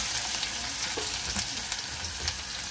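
Curry leaves and onion fry in hot oil with a steady, close sizzle, and a few stirring knocks and scrapes break through the crackle.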